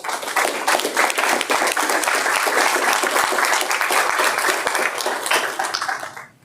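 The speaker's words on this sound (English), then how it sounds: "I'd like to give them a round of applause." Loud, dense applause from a crowd at a state transportation commission meeting, honoring the executive staff; continuous vigorous clapping that tapers off at the end.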